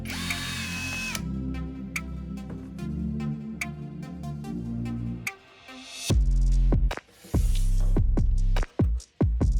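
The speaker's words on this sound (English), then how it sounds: "and drill 3 small holes." A small power drill whines and bores into a small plastic bottle cap, with several short bursts of motor hum and grinding that start, stop and restart, loud and close with no talking.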